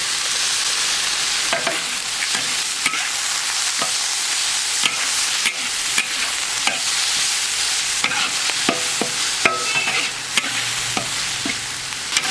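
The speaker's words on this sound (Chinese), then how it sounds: "肉末全下进来，姜蒜也一起下。" Minced meat stir-fries with ginger and garlic in a wok: a steady loud sizzle runs throughout, punctuated by repeated sharp scrapes and clacks of the spatula tossing the mixture, with no voices.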